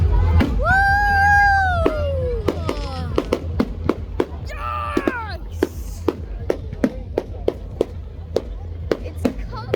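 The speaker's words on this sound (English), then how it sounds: "All those firework rocket launchers!" Firework rockets at a Bonfire Night display in Littledown crack sharply in a rapid, irregular series of loud bangs, while whistling launches and crowd voices rise between them.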